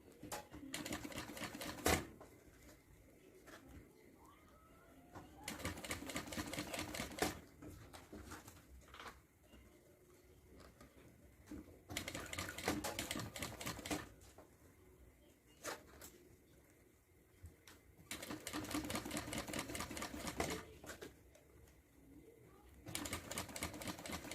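A domestic straight-stitch sewing machine stitches fabric for a Kindle or tablet case with a presser foot, in several bursts of rapid mechanical whirring separated by quiet pauses, fairly faint.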